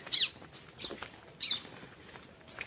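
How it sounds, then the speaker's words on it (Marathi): Three short, high chirps spaced about half a second apart, faint and distant in a quiet outdoor setting. "एकदम शांत नुसतं पक्ष्यांचा आवाज येतोय"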